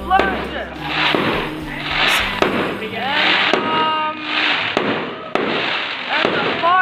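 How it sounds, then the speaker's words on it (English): New Year 2020 fireworks and firecrackers going off in rapid succession, loud booming bursts and crackling pops repeating every second or so, with voices in the background. "And some firecrackers are in the house!"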